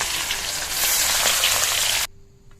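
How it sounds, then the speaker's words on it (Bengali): Rohu fish fries lightly in oil, giving a dense, even crackling hiss close up for about two seconds before cutting off abruptly to near quiet. "মাছ ভাজার জন্য তেল দিয়ে দেবো। মাছটা হালকা করে ফ্রাই করে নেব"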